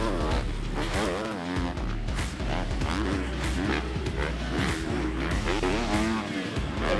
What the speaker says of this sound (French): C'est parti pour les premiers tours de roue de la journée avec les essais libres SX2